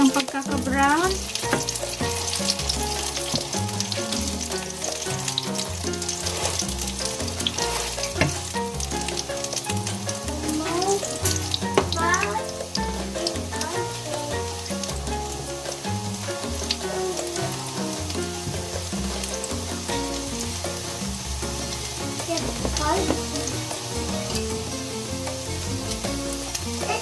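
A mung bean omelette sizzles loudly and steadily in a hot frying pan, close up, with occasional scraping and stirring against the pan throughout and no speech.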